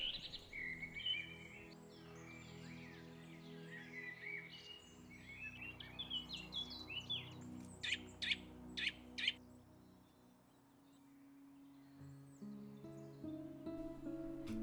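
Songbirds, including chaffinches and robins, singing through woodland undergrowth in late winter: faint, distant chirps and trills scattered over quiet ambience, with a brief cluster of sharper calls midway.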